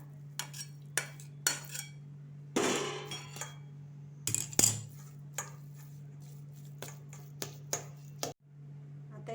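Cooked rava dough is scooped from the pan into a pot, with a series of sharp spoon clinks, knocks and scrapes against metal over a steady low hum.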